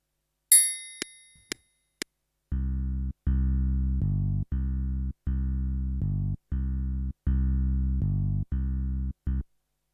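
Bass track of a KORG arranger keyboard user style in variation 1, a deep synth bass playing a steady repeating pattern of short held notes, preceded by a few bright metronome-like clicks.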